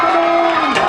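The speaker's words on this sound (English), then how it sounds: "And the crowd is going wild." A crowd cheering loudly at a boys' school basketball game, a dense roaring wall of voices with shouts sustained throughout the second.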